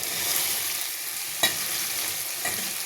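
Boiled cauliflower and cabbage being stirred into a spice masala in a hot pan: a steady sizzle with a soft scrape or clack of the spoon now and then, close by and with no talking.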